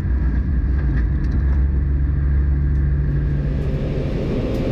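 Ford Fiesta Sprint Cup race cars at Spa-Francorchamps, a steady, loud low engine rumble and roar continuing throughout without a break.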